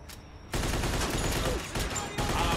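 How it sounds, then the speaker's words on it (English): A Tommy gun in the Mafia 2 video game fires in long bursts of rapid automatic fire, loud and dense, with a brief pause before the shooting resumes. "Tommy gun!"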